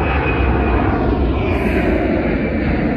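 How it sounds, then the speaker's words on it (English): A large airplane passes overhead with a loud, steady broadband engine roar that fills the whole stretch and holds level throughout, without talk. "It's a big airplane."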